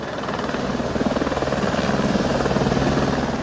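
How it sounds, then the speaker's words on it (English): A firefighting helicopter hovers over a purpose-built pool while scooping water during a forest fire, its rotor making a loud, steady, close thudding drone with a fast regular beat that runs without a break. "a helicopter is collecting water from a specially designed pool while fighting a forest fire"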